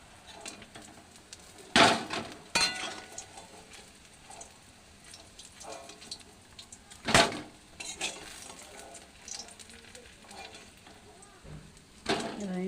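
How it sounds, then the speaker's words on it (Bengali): Fried rohu fish lifted one by one from a pan of hot oil: a soft sizzle underneath, broken by several sharp metallic clatters and scrapes of a utensil against the pan, spaced out irregularly. "আমি মাছগুলো তুলে নিচ্ছি একটা একটা করে"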